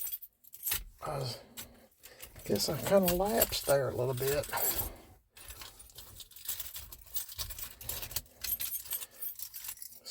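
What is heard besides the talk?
keys jangling while searching for the truck key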